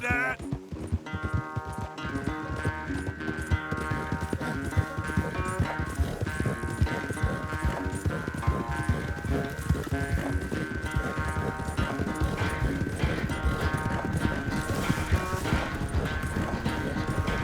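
Horses galloping in a race, a steady fast clip-clop of hooves running continuously under background music, with voices talking over it.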